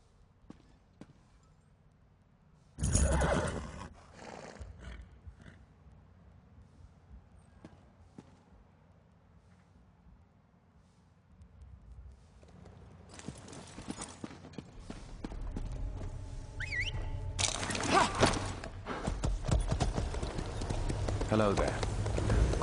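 Horse hooves clip-clopping in Elder Scrolls Online, spaced thuds followed by sustained rapid hoofbeats that build louder toward the end, with game sounds and talk at times.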